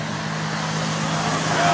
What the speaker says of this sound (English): I don't like traffic sounds